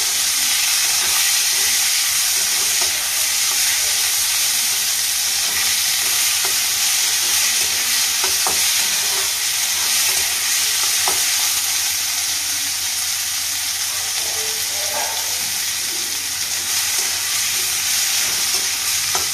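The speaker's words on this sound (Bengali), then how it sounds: "নাড়াচাড়া করে নেবো, ভালো করে ভেজে নেবো।" Chopped onion, garlic and tomato stirred and fried in a pan for a Bengali chochori, a continuous loud sizzle with occasional spatula scrapes and clicks against the pan, no voices.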